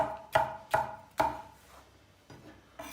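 An onion being chopped finely with a knife on a board for köfte, a few sharp, close chopping knocks spaced in a loose rhythm, then fainter taps, with no talk.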